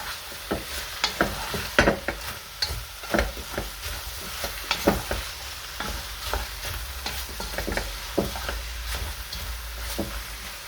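Smoked, sweet and spicy paprika with salt and pepper being mixed into a beef stew of onions and peppers in a pan, a spoon scraping and stirring in repeated strokes over a steady sizzle.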